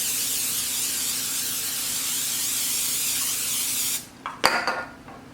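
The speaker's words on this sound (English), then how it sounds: "we're going to go in with a good dose of olive oil spray" Olive oil cooking spray hisses out in one long steady burst for about four seconds, then stops and is followed by a few light clatters of kitchenware.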